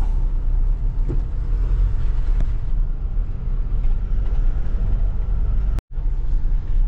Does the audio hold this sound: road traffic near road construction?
yes